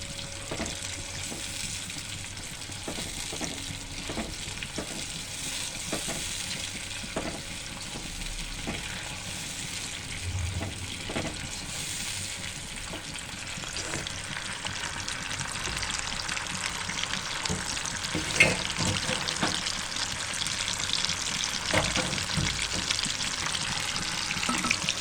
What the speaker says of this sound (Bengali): মশলাটা সুন্দর করে সাথে একটু ভাজা করতে হবে